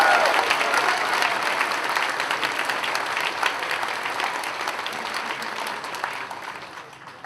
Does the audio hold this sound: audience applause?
yes